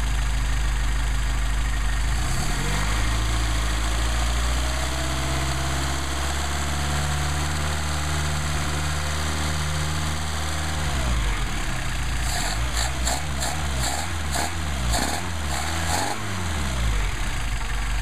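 A Mercedes 190SL engine on Solex carburetors runs during a carburetor test, idling with a steady droning tone, then shifting through several quick changes in engine speed near the end.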